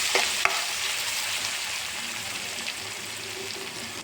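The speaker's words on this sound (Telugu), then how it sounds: "పసుపు, అల్లం పేస్ట్ 1 minute ఫ్రై అయ్యాక" Turmeric and ginger paste fries in hot oil with a steady, close hiss and crackle, a couple of sharp utensil knocks near the start, and no voices.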